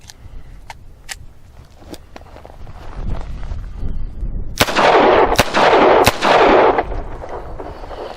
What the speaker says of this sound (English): I'm going to take 3 rounds and shoot it double action